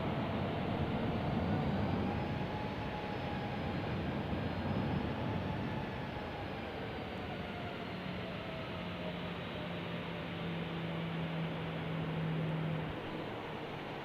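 An airliner taxiing at Albuquerque airport gives a steady, moderately distant jet engine rumble and hiss with a slowly shifting whine, continuous for the whole stretch with no talk over it.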